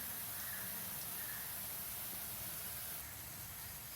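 Kara boondi frying in hot oil gives a steady, dense sizzling hiss that holds evenly throughout with no talking.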